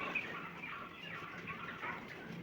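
A quail rooster clucks softly and steadily, faint and somewhat distant, with no talking.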